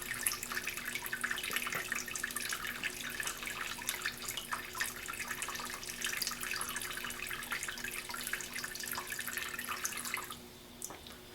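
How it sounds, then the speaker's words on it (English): Water runs steadily through the spray head of a slow-running coffee machine, a continuous hiss and splash with faint drips, nearby and fairly quiet, then it drops off sharply at the very end. "As you can see, the water flowed through the one on the right"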